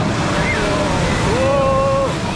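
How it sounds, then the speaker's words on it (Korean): Ocean waves wash onto a beach in a steady, loud roar with wind noise, while voices talk and call out over the surf. "와중에 또 한눈 팔다가 파도에 쓸려가는 마네씨."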